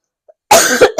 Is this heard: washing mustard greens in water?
no